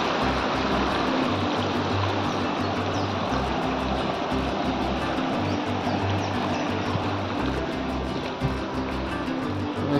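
Fast-flowing water rushing through a small irrigation channel beside fields in the Nubra valley of Ladakh, a loud, constant torrent with a low churning rumble that never lets up.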